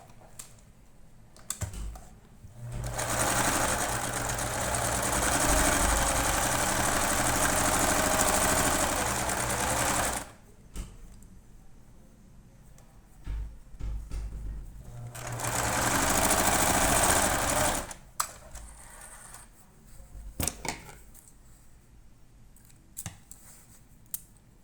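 A sewing machine stitches a seam on doll clothes for a bunny couple in two sustained close runs of rapid whirring, separated by quiet pauses with small clicks and handling sounds.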